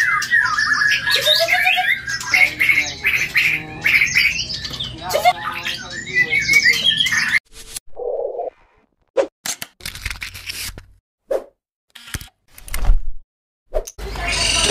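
A long-tailed white-rumped shama sings a rapid, varied run of whistles and squawking phrases close by, then breaks into scattered short knocks and clicks with pauses between them.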